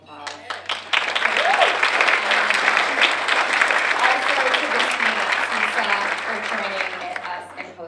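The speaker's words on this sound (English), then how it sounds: "So can we give one more round of applause?" An audience at a chamber of commerce breakfast applauds loudly and steadily, dense clapping filling the room for several seconds, with cheering and a few voices mixed in near the start.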